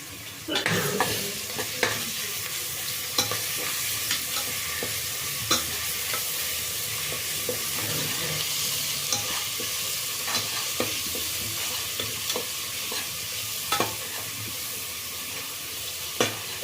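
A paste of ginger, garlic and green chili fries in a pan for fenugreek rice, giving a continuous hissing sizzle broken by regular spoon scrapes and clicks as it is stirred.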